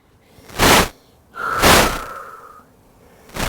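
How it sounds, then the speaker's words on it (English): Slow, deep breaths taken while resting in child's pose during a home yoga-style workout: two long airy inhale and exhale sounds, close and fairly loud, with another beginning at the end and no talking. "Breathe in deep, breathe out long."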